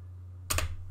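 A single short keypress on a computer keyboard, a quick double-tapped click against a steady low electrical hum, close and fairly quiet.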